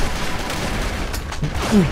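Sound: gunfire in the video game AvatarStar

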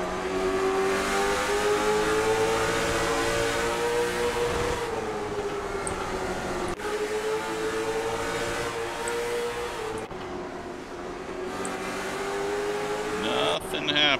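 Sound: race car engine in video game iRacing, Lanier Speedway

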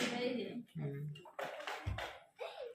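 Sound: water being poured

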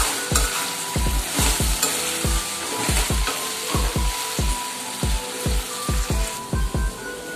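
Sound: okra being stirred and cooked in a pan

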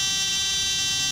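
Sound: landing gear warning alarm in video game Microsoft FSX Steam Edition

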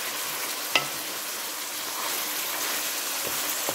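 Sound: chicken frying in oil in a kadai

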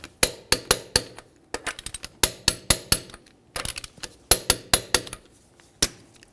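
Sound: torque wrench tightening wheel lug nuts in crisscross pattern

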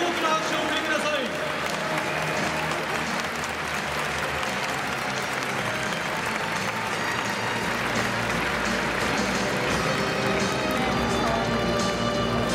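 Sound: stadium applause for baseball player Hitoki Iwase

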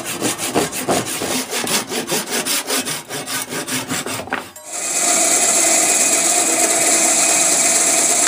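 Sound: hand sawing hard wood into sections

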